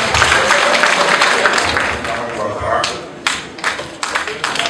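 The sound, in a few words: audience acclaiming and applauding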